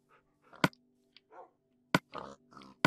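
Short grunting pig oinks from Minecraft, several separate bursts spread over a few seconds, fairly close, with sharp clicky game sounds in between and a steady low hum beneath.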